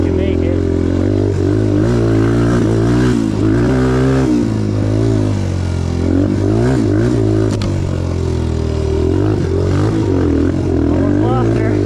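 A 2022 Suzuki DRZ125L kids' dirt bike revs hard through repeated throttle bursts while popping small power wheelies, its loud engine rising and falling continuously, with wind noise and clatter close to the mic.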